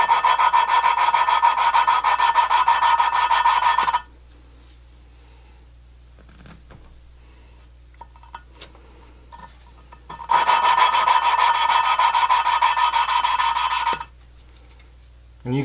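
A valve is lapped by hand into an LS3/L92 823 cylinder head, producing two long bursts of harsh, gritty grinding several seconds apart with quiet handling noises in between.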